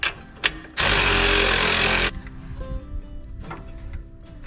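Power tool driving bolts on a Jeep Gladiator differential skid plate, a loud close burst of rattling impact lasting just over a second, followed by quieter clanks and handling knocks.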